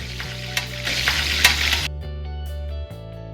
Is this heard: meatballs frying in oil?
yes